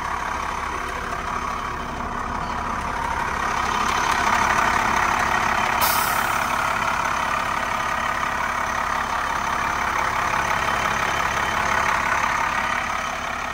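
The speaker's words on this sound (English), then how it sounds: "The motor sounds great." A 1998 Monaco Dynasty motorhome's turbo diesel engine idles steadily at close range through the open engine hatch, a continuous low rumble with a broad mechanical hum that holds even throughout.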